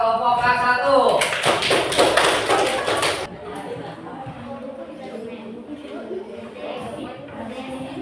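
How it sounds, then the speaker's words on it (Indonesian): Classroom applause for student group K1, a dense burst of many hands clapping for about two seconds, then fading into murmured voices and room chatter. "Tepuk tangan buat kelompok K1."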